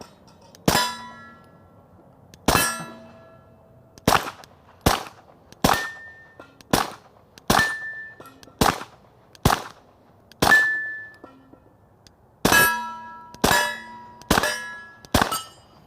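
A Stoeger STR-9S semi-auto pistol firing ball ammunition hits targets with about fourteen sharp, separate cracks, each followed by a short metallic ring. The shots come at an irregular pace, some single and some in quick pairs.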